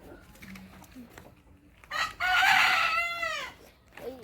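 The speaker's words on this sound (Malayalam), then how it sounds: "ഇത് നാടൻ കോഴികളാണ്" A rooster crows loudly in one long, drawn-out call, preceded by scattered soft clucks from native country hens nearby.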